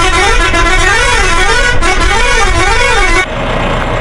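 A bus horn in the Ceylon Bus Simulator game blares as a loud, sustained warbling multi-tone melody over engine rumble for about three seconds, then cuts off leaving the engine running.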